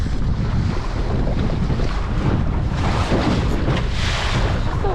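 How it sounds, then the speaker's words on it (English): Strong wind buffeting the microphone and waves rushing and slapping against a small sailboat during a sailing outing, a loud, steady roar throughout. "Just a lot of waves."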